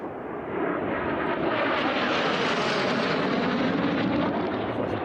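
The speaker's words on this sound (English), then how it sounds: "Beautiful airplane against this crystal clear blue Nevada sky we have here today, Tommy" A racing airplane roars past at the Nevada air races, rising quickly to a loud, sustained engine drone that peaks midway and then eases slightly as it passes.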